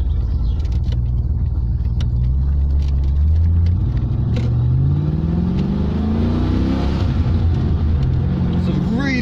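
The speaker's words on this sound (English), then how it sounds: "Beat the sound of a Rover V8?" A Rover V8 engine in a Hyundai Stellar rumbles deeply and revs up as the car accelerates, the pitch rising through the gears, heard from inside the car.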